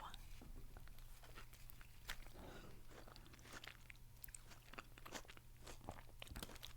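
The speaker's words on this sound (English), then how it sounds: "Let's just get a bite of this tomato." A fresh tomato is bitten and chewed up close, with soft crunchy, wet bites and mouth sounds repeating quietly over a faint background hum.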